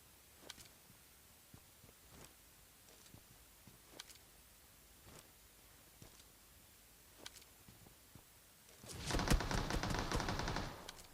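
AK rifle fire in the mobile battle royale PUBG Mobile, faint distant single shots ticking out irregularly, then a dense close burst of automatic fire near the end.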